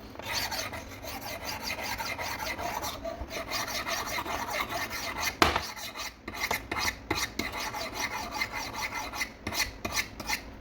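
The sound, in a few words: knife sharpened on Spyderco Sharpmaker medium stones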